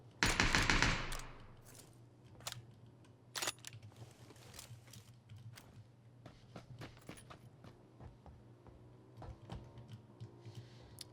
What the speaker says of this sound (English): We had gunshots, I believe, that were in West Barrack here.